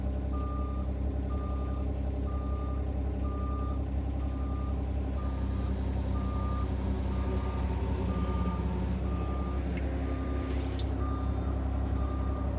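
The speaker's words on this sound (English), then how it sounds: "I was intentionally taking my time here backing up." Steady, evenly spaced reversing beeps ring out from a Bobcat articulated loader backing up slowly, over a loud constant engine rumble, with a brief hiss near the end.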